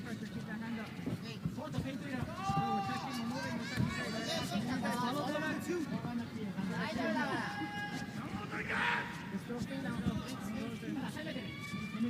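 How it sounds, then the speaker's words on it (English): A crowd yells and roars during a women's MMA fight at a Rizin event, a continuous loud wash of shouts and excited voices that rises and falls, with a commentator talking over the top. "Most yelling we've heard all night from the crowd"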